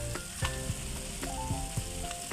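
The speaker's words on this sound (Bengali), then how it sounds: "এটা ভালো করে এবার ভেজে নেবো মশলাকে" Ground spices sizzling and frying in a pan for parwal (pointed gourd) kofta curry, a steady soft crackle with occasional clinks and stirring scrapes, no voices.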